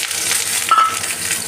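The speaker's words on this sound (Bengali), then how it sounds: "বড়িগুলো আগে ভেজে তুলে নিচ্ছি।" Bori lentil dumplings fry in hot oil in a pan, a steady close sizzle with soft crackles and a brief stir partway through.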